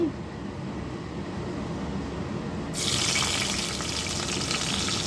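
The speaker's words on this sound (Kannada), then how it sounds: "ಎಣ್ಣೆ ಬಿಸಿ ಆದಮೇಲೆ ಮೊದಲು ಈರುಳ್ಳಿ ಹಾಕ್ಕೊಳ್ಳಿ" Onion dropped into hot oil for a fish curry, a steady broad hiss of frying that swells louder midway and holds, close and continuous with no talk.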